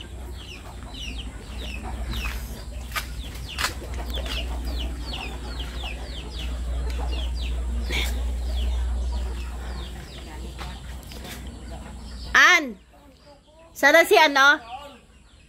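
Chickens cluck and chatter in a fenced yard where many birds are kept, soft scattered calls throughout, with people talking loudly near the end.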